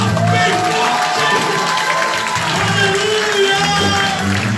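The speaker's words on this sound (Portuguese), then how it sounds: "Dá um grito de glória aí. Diga aleluia. Aplauda o Senhor bem forte." Church congregation cheering, shouting and applauding together in a loud, continuous wall of crowd noise during a worship service, with voices raised throughout.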